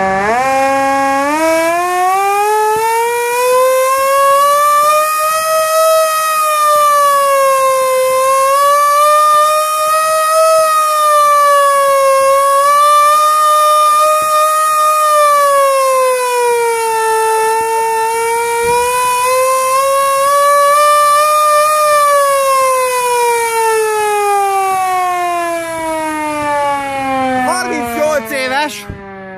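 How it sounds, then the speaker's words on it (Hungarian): A hand-cranked Hungarian civil defense air raid siren built in 1976 winds up to a loud, sustained wail that rises and falls in slow waves as the crank speed changes, then dies away at the end. "38 éves ez a sziréna, és így szól."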